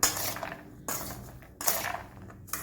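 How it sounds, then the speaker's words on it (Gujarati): Boiled peanuts are mixed with salt in a metal vessel, giving repeated clattering, rattling bursts about once every second, each with a sharp start, close by and fairly loud. "1 ચમચી મીઠું ઉમેરીને મિક્સ કરી લઈએ."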